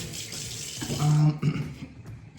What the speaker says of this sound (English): Let me wash my hands in between because I'm a clean boy.